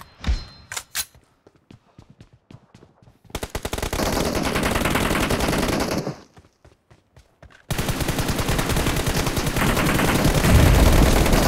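Sustained automatic gunfire in a PUBG team deathmatch, with long rapid bursts of loud, close shooting broken by short gaps of scattered single shots.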